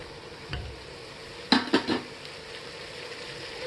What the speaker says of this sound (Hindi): सभी सब्जियों को एक साथ डाल देंगे।